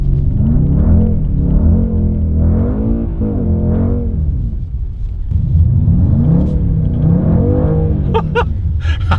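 A Mercedes-AMG GT 4-door engine revs hard in snow, rising and falling in repeated loud, close surges with a steady rumble beneath.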